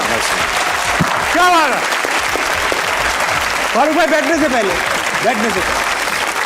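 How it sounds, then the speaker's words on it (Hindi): A studio audience at a comedy talk show claps steadily and loudly throughout, a dense near wash of applause, while a host speaks over it and briefly draws out his words. "तालियां बजनी चाहिए।"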